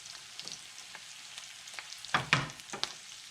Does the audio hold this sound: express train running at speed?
no